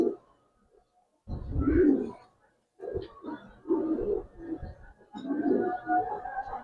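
Pigeon coos at a Giribaz and coloring pigeon loft, several low throaty bursts in separate rhythmic bouts, close and fairly loud, with short pauses between.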